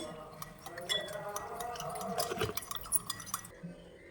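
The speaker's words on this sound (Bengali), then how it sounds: "লবণ আর চিনিটাকে ভালো করে মিশিয়ে নেব" A spoon clinks and scrapes against a bowl while salt and sugar are stirred into water, a run of light irregular taps with liquid swirling and sloshing, close up.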